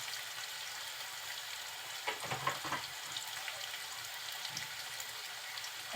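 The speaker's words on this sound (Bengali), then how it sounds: "পেঁয়াজ রসুনগুলো একটু হালকা ভাজা হলে দিয়ে দিব আস্ত জিরা" Onion and garlic fry in oil in a pan with a soft steady sizzle, faint and close, and a couple of brief stirring scrapes just after the two-second mark.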